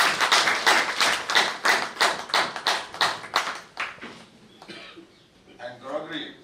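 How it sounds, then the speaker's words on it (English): An audience at a spiritual and value education summit claps together in a steady burst of hand claps that fades after about four seconds, followed by faint murmuring and a voice. "let us give a big clap to"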